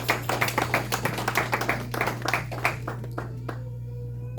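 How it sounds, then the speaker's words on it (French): A church congregation claps in a steady, lively rhythm for about three seconds before the clapping thins out, over a constant low electrical hum. "Acclamons les Seigneurs une fois de plus"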